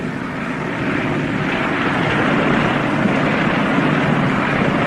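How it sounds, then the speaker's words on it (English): A propeller airplane drones overhead as it comes in to land, a loud steady engine hum that holds throughout with no talk. "It's another plane."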